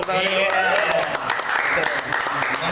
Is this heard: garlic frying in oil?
no